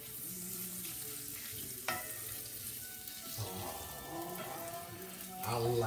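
Garlic and anchovy fry in a pan over a gas flame, a soft steady sizzle and crackle with occasional stirring scrapes, close and fairly quiet.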